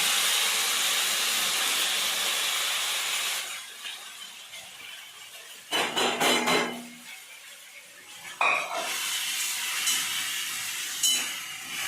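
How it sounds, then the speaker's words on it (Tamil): Cooked wheat semolina tipped into a pan of hot ghee with fried cashews, a steady steamy hiss with sharp bursts of sizzling and clatter of the pan as it lands, close and without talk. "இதில் ஊற்றி இந்த வெந்திருக்கிற ரவையை கொட்டிடணும்."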